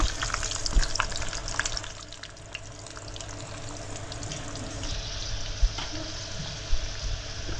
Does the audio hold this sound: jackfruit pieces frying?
yes